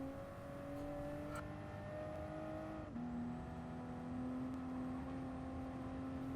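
A Toyota Supra '20 in Gran Turismo Sport accelerating hard, its engine drone climbing steadily, dipping at a gear shift, then rising again, loud and continuous with no voices.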